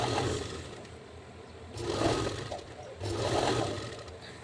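Sewing machine stitching a long basting seam around a lined blouse, its motor whirring in two longer runs with brief pauses between, steady and fairly close.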